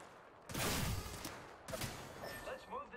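Gunfire from the video game Apex Legends comes in two fairly quiet bursts of rapid shots, the first longer and the second shorter, with a few faint tonal game effects trailing after.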